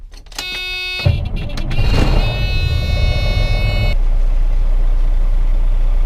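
An old farm truck at harvest time starts up: a whining starter cranks for a second, the engine catches, and it settles into a loud, steady, low idle close by.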